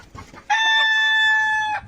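A Fayoumi laying hen gives one drawn-out, tonal call lasting over a second, loud and close, with faint low background noise before and after.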